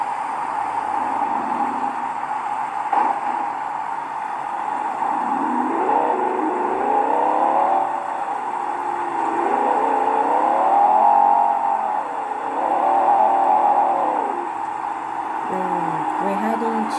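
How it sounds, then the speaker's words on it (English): A Dodge Viper sports car cruises along roads in southwest Florida, its engine droning steadily from inside the cabin with pitch rising and falling as it shifts and accelerates. "So today we're driving my Viper."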